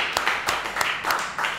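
An audience at a live jazz trio show at The Spotted Owl claps, producing a brief burst of uneven, close hand claps in a quick irregular rhythm.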